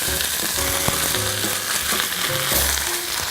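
An egg fries in a pan for a breakfast sandwich, giving a dense, constant close-up sizzle with faint tonal hum underneath and no voices.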